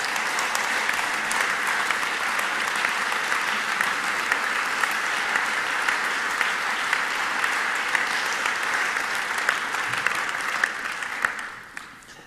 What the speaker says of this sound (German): wenn wir ihn auf der Bühne begrüßen mit einem ganz, ganz herzlichen Applaus